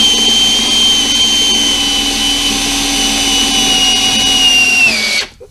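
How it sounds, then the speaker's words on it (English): A hand drill runs continuously in a workshop, a loud steady whine with a sustained high pitch that winds down and cuts off abruptly near the end. "So the one thing about this particular hand drill I have, it's a little bit funky."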